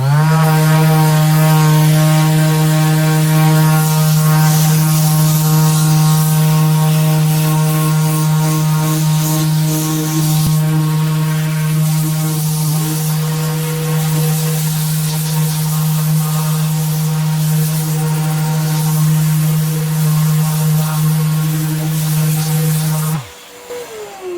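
A MAXXT 150mm orbital sander works on wood with a loud, steady, close motor whine and a constant buzz that runs almost unbroken before cutting off at the very end.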